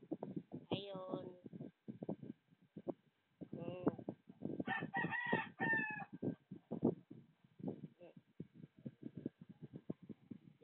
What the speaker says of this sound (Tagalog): At marami din ditong manok.